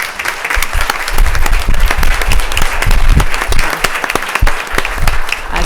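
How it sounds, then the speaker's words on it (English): Enthusiastic applause from the audience at a board meeting, loud sustained clapping with sharp individual claps standing out, continuing steadily throughout without speech. "Can we please give them another round of applause?"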